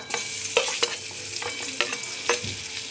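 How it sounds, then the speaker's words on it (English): Chopped onions hit hot butter and oil in a pan and sizzle loudly, a bright steady crackle with a few sharper spits and stirring scrapes, heard up close without any talking. "Now I'll put the chopped onions"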